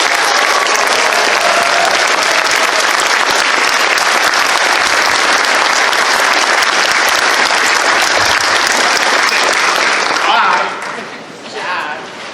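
Dense, sustained applause from a large convention crowd at a 2019 closing ceremony, loud and continuous before tapering off abruptly near the end into scattered claps.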